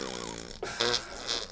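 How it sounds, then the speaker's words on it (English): A fart: a single close, buzzy and sputtering release lasting about a second and a half, with a lumpy, uneven texture. "Are farts supposed to be lumpy?"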